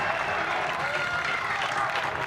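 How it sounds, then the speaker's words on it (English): Crowd at a college baseball game between NC State and Pittsburgh, a steady loud roar and murmur of fans filling the stadium during a pitch, with no distinct individual voices. "So you can hear the crowd here just hanging on every pitch."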